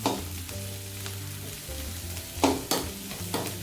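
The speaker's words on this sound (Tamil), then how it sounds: "வெங்காயம் வதங்கி" Onions fry and sizzle in a pan for cauliflower rice, a steady low sizzle joined by a few brief stirring clinks.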